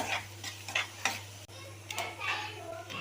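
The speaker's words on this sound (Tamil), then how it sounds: "இப்போ வெங்காயத்தை நல்லா வதக்கலாம்" Onions sauté in oil with fennel seeds and curry leaves, a soft sizzle broken by a few scraping stirs of a spoon against the pan, fairly quiet and close.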